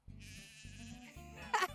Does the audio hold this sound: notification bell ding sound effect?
no